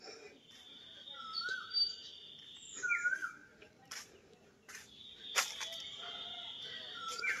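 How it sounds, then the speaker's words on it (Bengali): A bird calls from a tree in a quiet rural setting, its thin repeated notes carrying from a distance over a soft insect hum, with scattered chirps and a few sharp clicks. "ও কু কু করতেছে, কোন গাছে যেন বসে আছে"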